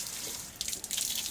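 Water splashes and runs in short bursts while eggplant plants in a garden are watered, a soft, close trickle with small uneven gushes and no talking.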